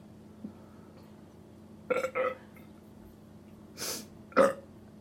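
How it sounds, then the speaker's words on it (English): A person lets out several burps during a burping challenge: a faint one early, then two quick throaty bursts, a longer airy one and a final sharp, loud burp, close up with no talking. "That's an alien burp."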